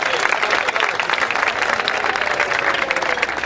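Applause for a shopping-centre manager at a football club's new kit presentation evening: loud, continuous crowd clapping with rapid overlapping claps throughout and some faint voices underneath.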